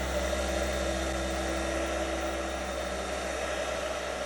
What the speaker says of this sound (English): Even an ordinary hairdryer will be enough for this.